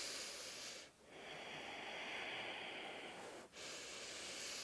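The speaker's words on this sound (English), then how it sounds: "A few more deep breaths." Slow, deep breaths during a beginners' hatha yoga flow: two long airy inhale-exhale cycles, close and soft, separated by a short pause, with no talking.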